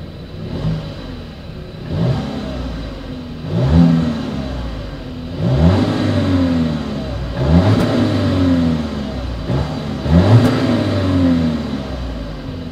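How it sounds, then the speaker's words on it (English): Repeated exhaust revs from a 2020 Volkswagen Atlas Cross Sport, about five loud blips rising and falling every two seconds or so, heard up close with no talking. "As always, here is that exhaust clip."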